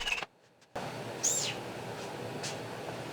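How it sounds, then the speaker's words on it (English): Brief high-pitched metallic squeaks occur a few times over a steady grinding noise while cutting steel rod, with a short silent gap near the start. "some god-awful squeaking while cutting some steel rod for the pivot pegs"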